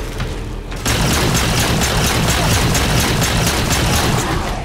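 A grenade explodes in the Halo 4 Spartan Ops mission Sniper Alley with a sudden loud blast. A dense, roaring wash of debris and rumble follows and stays heavy for several seconds with no voices.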